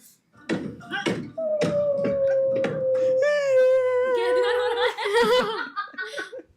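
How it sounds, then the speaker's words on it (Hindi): A girl cries and wails in long, drawn-out moaning sobs, loud and close, broken by sharp taps and other voices nearby. "इसके रोने की आवाज देखो।"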